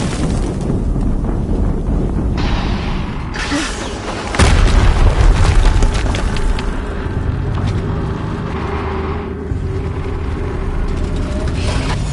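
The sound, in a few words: explosion in video game Horizon Zero Dawn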